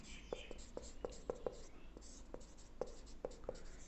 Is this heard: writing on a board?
yes